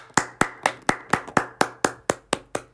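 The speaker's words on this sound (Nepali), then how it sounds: "सबैजनालाई चाहिँ ताली।" A single pair of hands claps in a slow, even rhythm, about a dozen sharp, close claps ringing out alone.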